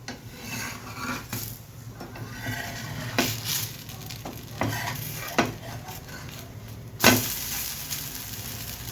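An onion dosa made from Balamrutham flour fries on a hot pan, giving a soft continuous sizzle broken by scraping and rubbing as the spatula works under it, with a sharper scrape near the end.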